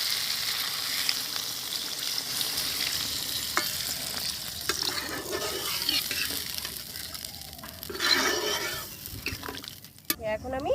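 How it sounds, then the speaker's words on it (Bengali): Water poured into hot spiced masala for a vegetarian potato and pumpkin curry hisses and sizzles in the pan, a steady broadband crackle that swells into a louder burst near the end. "এখন আমি জল ঢেলে দেবো।"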